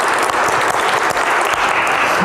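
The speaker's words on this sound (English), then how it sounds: "I want to give you a round of applause." Steady applause from a church audience at a Black History Month event fills the whole stretch, loud and continuous with no voices over it.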